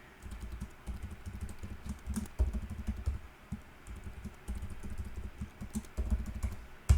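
A passphrase is typed on a computer keyboard: steady, close key clicks in uneven bursts, with a few heavier thumps like the space or enter key.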